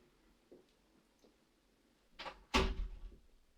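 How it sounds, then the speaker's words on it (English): A door shuts with a sharp thud after a short creak, followed by a brief rattling tail, in an indoor room with faint ticking taps beforehand. "Shut the door behind you."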